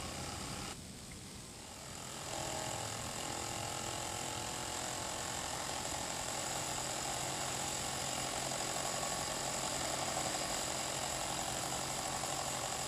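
A Hero steam engine spins at high speed, producing a continuous, fairly faint whirring hiss with a steady hum that builds slightly after a brief dip early on, with no talking.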